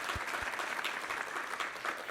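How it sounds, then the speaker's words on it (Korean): Congregation applauding during a Sunday church service, a short burst of dense clapping heard at moderate distance, steady throughout. "우리 하나님께 감사와 영광의 박수 올려드리겠습니다."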